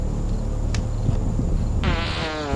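A man in a low-budget swamp monster movie lets out a buzzy, rasping fart near the end, rising over steady outdoor background noise.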